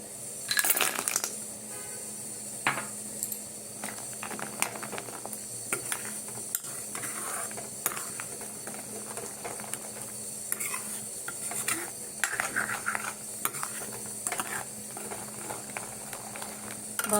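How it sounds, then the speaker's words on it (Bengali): Milk bubbling in a pot while pitha is being made, a quiet simmering texture broken by faint clinks, taps and stirring rattles throughout. "দেখো দুধটা ফুটছে"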